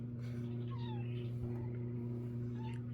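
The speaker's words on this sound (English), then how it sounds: "We have the feral kitty off to the corner here." A feral cat gives a few faint, thin meows from off in a corner of a room, under a steady low electrical hum.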